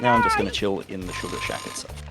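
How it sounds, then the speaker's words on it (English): A powerful alarm clock rings with a steady electronic tone while someone talks over it throughout. "That was my alarm waking me up today"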